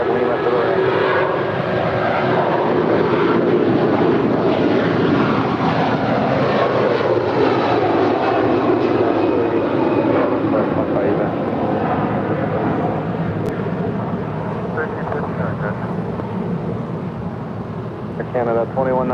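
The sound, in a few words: Air Canada Airbus A330-300 airliner taking off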